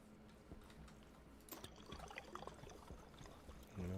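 Water being drunk in the video game Stationeers: a soft, trickling liquid pour and gulping that runs quietly throughout and ends in a louder burst.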